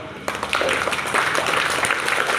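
Applause for a school guest at a children's event: a crowd breaks into sustained clapping after a brief pause, dense and loud throughout.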